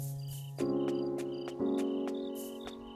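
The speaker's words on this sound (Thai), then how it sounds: "จิ้งหรีด" Crickets chirp in the Doraemon Story of Seasons video game, a run of sharp, evenly spaced chirps over sustained tonal game music that steps up twice, with no talk.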